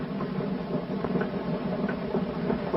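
A moving train sound effect in a 1931 radio drama rumbles steadily with faint rhythmic clicking, a continuous low mechanical roll with no voices.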